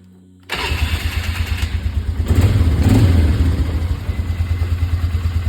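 A quad ATV engine fitted with its repaired original starter cranks and catches, then settles into a loud, close, rhythmic idle with a brief rise in revs midway before steadying again.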